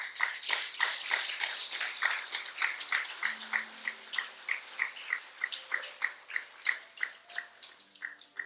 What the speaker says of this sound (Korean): 우리 나오실 때 뜨겁게 박수하시면서 우리 환영하도록 하겠습니다